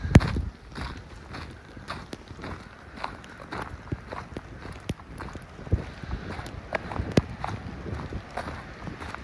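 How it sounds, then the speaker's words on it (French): Strong outdoor wind gusts during a storm with squalls and heavy snow, buffeting steadily with rough rumbling and repeated thumps, close and fairly loud throughout. "je vais me prendre une bourrasque"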